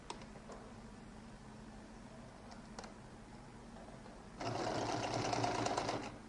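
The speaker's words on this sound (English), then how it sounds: "I'm going to sew the top alone" A sewing machine stitches a lady's jacket collar piece: a quiet room with a few light taps, then a burst of fast, even mechanical whirring for under two seconds before it halts.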